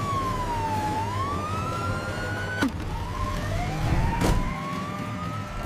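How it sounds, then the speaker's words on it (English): A cartoon police car siren wails in rising and falling sweeps, loud and steady, with a sharp impact-like burst partway through. "Sirens on!"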